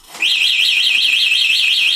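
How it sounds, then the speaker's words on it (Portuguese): A loud, high-pitched electronic anti-theft alarm siren on an Aniioki A9 Pro Max electric bike starts abruptly and warbles steadily without pause. "girar o pedal imediatamente ativa uma sirene alta"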